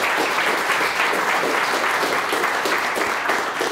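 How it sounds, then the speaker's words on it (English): Steady applause from a live audience at an office livestream event, dense clapping holding at an even level throughout with a few faint voices mixed in. "Hand of applause for this man."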